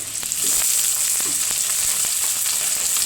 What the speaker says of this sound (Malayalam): സവോള ഇട്ട് കൊടുത്ത് സവോള ഏകദേശം ഒരു മൂപ്പായി വരുന്നുണ്ട്